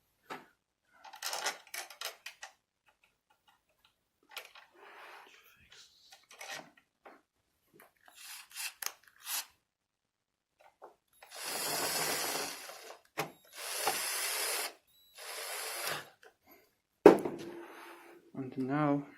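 Screws driven into a TTlock bluetooth smart euro profile lock cylinder, brief close whirring bursts of a small screwdriver with clicks and handling knocks, separated by quiet gaps.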